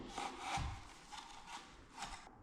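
Hand saw cutting a wooden floor piece during a house repair, a faint rhythmic rasp of a few back-and-forth strokes.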